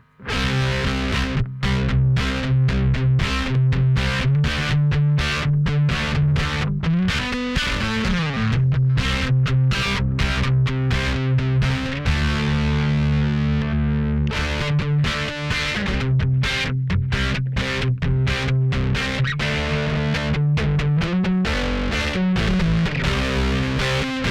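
Distorted, overdriven bass riffs through a Two Notes ReVolt Bass drive channel, gritty, fuzzy tone, chugging steadily with brief pauses, loud and close throughout.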